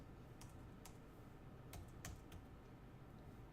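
Fingers tap out a short burst of computer keyboard keystrokes to enter a function into a graphing calculator, quiet and close, with several irregular clicks and no talking.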